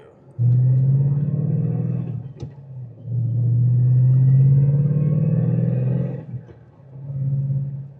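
A 2014 Shelby Mustang GT350 runs up through the gears with a loud, close engine roar that climbs in pitch. Short dips mark each shift before the roar builds again.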